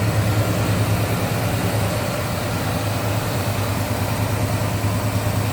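A 1972 Chevrolet C10 Cheyenne pickup's 350 V8 with headers and a carburetor idles steadily and smoothly, a constant close rumble with an even low throb and no voices.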